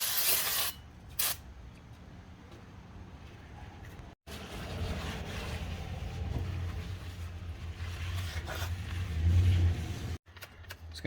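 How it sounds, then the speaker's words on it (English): Brake cleaner hisses from an aerosol can onto the new rear brake rotor of a 2003 Chevy Trailblazer, one long steady spray with short breaks and some rattling from the workshop around it. "we'll spray the front side with some brake clean as well."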